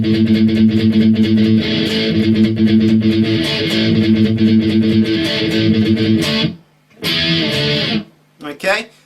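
Distorted electric guitar plays the intro of a song in a dense, steady stream of chords, then cuts off around six and a half seconds, followed by a few short bursts.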